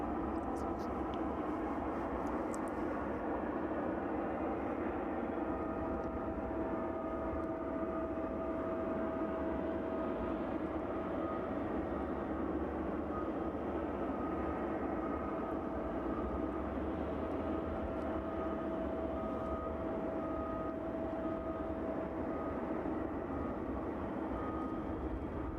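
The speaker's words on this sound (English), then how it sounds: "be the DHL service air from Reykjavik this evening, operated by that Boeing 757" DHL Boeing 757 cargo jet at East Midlands Airport on a chilly evening, a steady, distant jet engine drone with a sustained whine, continuous and moderately quiet.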